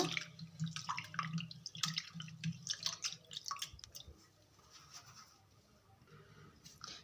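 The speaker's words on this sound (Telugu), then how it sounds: "మన బియ్యం మనం ఇట్లా గట్టిగా పిసుకుతాం కదా అట్లా పిసుకోకూడదండి ఊరికే లైట్గా ఇలా అనుకొని కడుక్కోవాలన్నమాట" Little millet grains swished lightly by hand in a bowl of water make soft splashing and dripping sounds in irregular bursts that fade to a quieter trickle; no voices.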